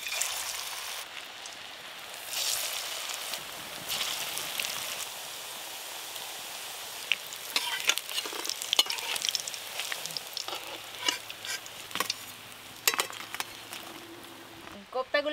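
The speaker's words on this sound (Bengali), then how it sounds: "কোফতাগুলো ভাজা হয়ে গেল" Banana flower koftas fry in hot oil with a soft, steady sizzle and crackle, while occasional clinks and stirring sounds break in near the end.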